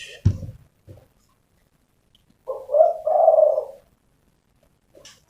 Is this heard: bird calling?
yes